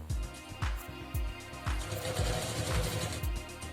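A sewing machine stitching a salwar hem, attaching one line of stitching to another, running in short rapid bursts with a rhythmic mechanical chatter, close and fairly quiet.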